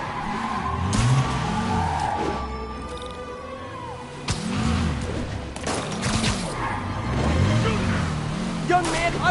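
High-speed car chase in a PS4 video game: tires skid and squeal repeatedly in sweeping bursts over a steady engine roar, with game dialogue voices talking over the action.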